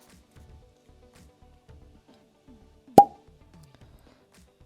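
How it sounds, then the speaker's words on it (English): A cork pops from an Oban 14 whisky bottle in one crisp, loud plop, preceded by faint handling rustles and soft scraping in an otherwise quiet room. "let's see the cork pop as always"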